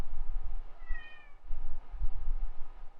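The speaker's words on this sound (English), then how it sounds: "She just walked in and just started meowing and then passed out." A house cat meows once, a short clear call near the start, over a low background of soft thumps and room rumble.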